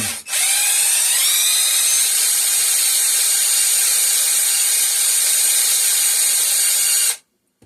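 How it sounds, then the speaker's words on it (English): An impact driver spins a 5 hp Briggs and Stratton engine part wrapped in sandpaper, a loud high-pitched whine that starts abruptly, rises briefly in pitch, holds steady for about seven seconds, then cuts off. "I'm going to put the impact on here and see if I can give it a spin."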